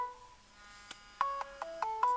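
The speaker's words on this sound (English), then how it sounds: "We're getting a phone ring." An incoming phone call rings through a car's Bluetooth handsfree system as a series of short, bright electronic tones in a quick melodic pattern that follows a faint click and starts quietly.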